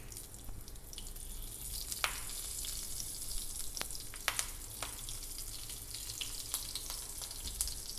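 A pinch of hing and green chili sizzling in hot oil, a steady faint frying hiss with scattered sharp crackles and pops throughout and no talking.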